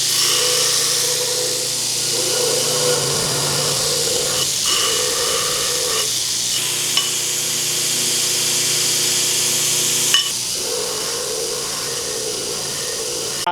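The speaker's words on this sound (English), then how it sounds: "That's why we drug this over here to the grinder. That way we can grind and fit." An angle grinder works scrap metal to fit a blacksmith's guillotine tool, giving a steady loud whine and hiss that runs continuously with small shifts in pitch and a few brief knocks.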